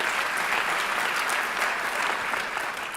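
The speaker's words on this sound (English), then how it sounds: "please give him a round of applause." A crowd at a solidarity gathering for Israel applauds steadily, dense clapping holding an even level for the whole stretch with no speech over it.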